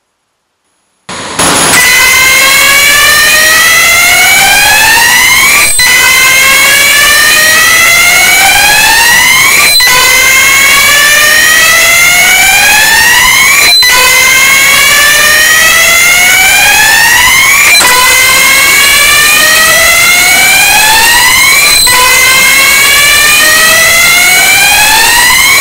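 A Pertronic PS1 AS2220 piezo sounder on a fire alarm panel screeches at piercing volume, repeating rising sweeps about every four seconds for over twenty seconds after a brief silence at the start.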